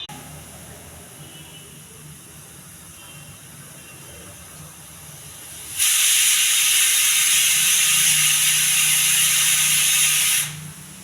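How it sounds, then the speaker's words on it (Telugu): A kitchen pressure cooker on a stove sounds under quiet background noise at first. Then a loud, steady hissing whistle of escaping steam bursts out, holds for about five seconds, and stops abruptly. "కొద్దిగా వాటర్ వేసి ఒక 4 విజిల్ రానివ్వాలండి."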